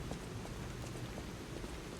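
Steady rain falls at night on Krat Central Station Plaza in the game Lies of P, a dense, even hiss with faint scattered drops, continuous and without voices.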